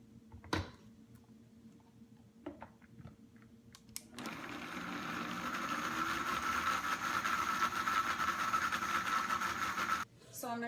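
A blender purees warm raspberries, its motor starting partway through with a steady whirring hum that grows slightly louder and holds for several seconds before cutting off abruptly, with brief kitchen clatter before it starts.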